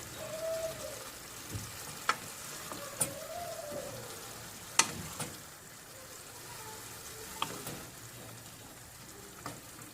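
Spinach stems sauté in a pan, a faint, steady background sizzle punctuated by a few sharp clicks and taps of stirring, with no voices.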